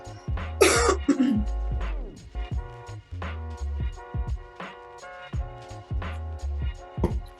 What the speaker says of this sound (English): I really haven't been coughing as much, but I'm outside and my allergies start to flare up